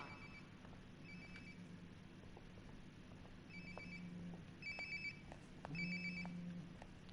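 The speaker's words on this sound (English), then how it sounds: "Sounds like my phone is definitely nearby." In the video game Lotus Is Strange Before The Blossom, a phone rings nearby, heard as a faint, repeated ringtone over a low, steady background.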